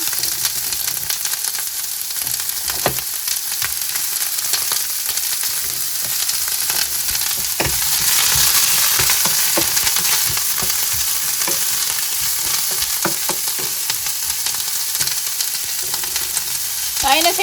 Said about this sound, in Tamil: கொஞ்சமாக தான் எண்ணெய் விட்டேன் நான் வெங்காயத்தையும் போட்டு தாளிச்சுட்டு அடுத்ததாக பச்சை மிளகா